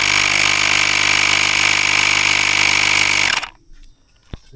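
A portable Auxito air compressor inflating a bicycle tube on the wheel runs as a loud, steady, buzzing drone with a high whine, then cuts off abruptly, leaving quiet handling noises.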